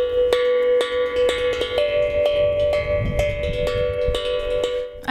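Bright metallic tones struck over and over on the same pitch of a steel tongue drum, ringing into each other in a quick, slightly uneven repeating pattern.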